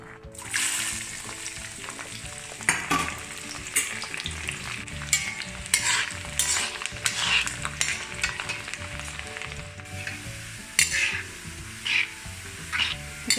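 Garlic fries in hot oil in a pan for Mangalorean postpartum medicine, a steady crackling sizzle broken by repeated scraping stirs and light clinks of the utensil, close and moderately loud.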